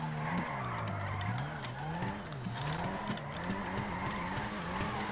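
Sustained tire squeal and engine drone from a Nissan GT-R R35 sliding sideways while drifting in FiveM, loud and continuous with wavering pitch and no voices.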